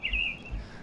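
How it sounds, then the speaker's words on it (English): A couple of faint, high bird chirps, one near the start and another at the end, over quiet outdoor background noise. "Oh, birdies."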